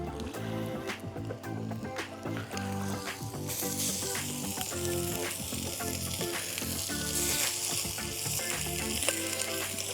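Fatty meat bits and bone fry in a pot for plov cooked outdoors, a loud, close, steady sizzle with bubbling and small pops, crackling hotter partway through.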